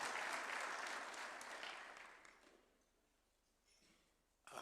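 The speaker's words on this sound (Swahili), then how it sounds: "Tumpigie makofi tafadhali akija" An audience at an AFC Leopards gathering at State House, Nairobi, applauds Secretary General Isaac Mulindi. The clapping starts full and close, then thins and fades to near silence, with a brief knock at the end.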